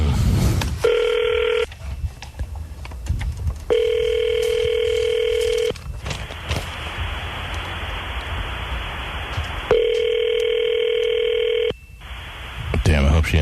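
Repeated outgoing telephone ringback tone, three long electronic rings with pauses between them, with a voice talking and hiss in the gaps.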